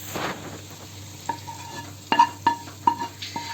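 A spoon scraping and stirring tomato paste and onion in a pan for kısır, several distinct clinking strokes against the metal over a faint sizzle, close and fairly loud.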